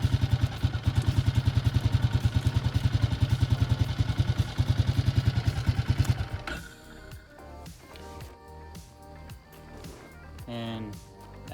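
A Traxter utility vehicle engine idles with a fast, steady pulsing chug, then drops to a quieter, uneven running sound as its gears shift by solenoid, with clicks and mechanical clatter up close.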